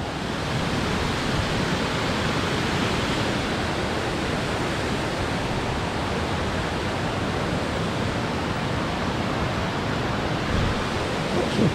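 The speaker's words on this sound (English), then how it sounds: "little bits of the waterfalls going down" Waterfalls at Force Mills tumble down beside a Lake District bridleway, a constant broadband rush of falling water that stays loud and even throughout, with no voices.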